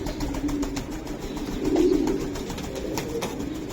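Racing pigeons coo close by in a loft, with low, throaty, rolling calls that swell near the middle over a steady background hum.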